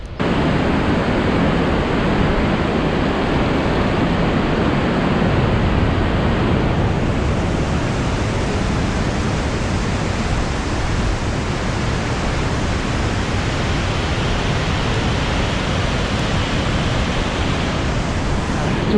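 Augrabies waterfall in flood on the Orange River, a dense, unbroken roar of rushing water mixed with buffeting wind noise on the microphone, loud and steady throughout with no pauses.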